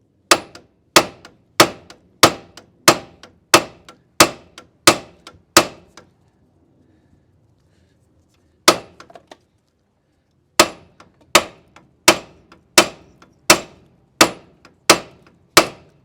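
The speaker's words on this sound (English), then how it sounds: "now we can come back here with the hammer and bang that corner right there" A hammer striking the corner of a wheel hub assembly during wheel bearing replacement, sharp ringing metallic blows in a steady rapid series, a pause, then another run of hits, loud and close with no talk.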